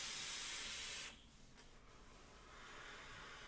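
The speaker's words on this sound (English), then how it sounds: "Nice swooshy airflow, nice draw to it." Air is drawn through a Recoil RDA vape atomizer, making a close, breathy rushing hiss that is strong for about a second, drops away, then returns more softly.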